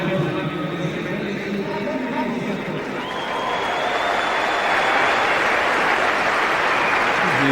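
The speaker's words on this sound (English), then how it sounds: "Huge applause for Matthew Nicholson, coming on for his second spell in this second innings." A large cricket crowd at Melbourne's Boxing Day Test applauds bowler Matthew Nicholson as he comes on for a second spell. The steady, distant wash of clapping swells and grows louder midway, with a commentator talking over it.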